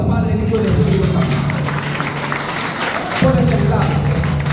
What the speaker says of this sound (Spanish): Den un aplauso al Padre, Hijo y Espíritu Santo